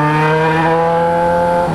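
Yamaha XJ6 motorcycle with a 4-into-1 exhaust and no dB killer, a loud, steady, raspy engine drone held close up with strong harmonics, pitch dipping slightly at the end, no talk.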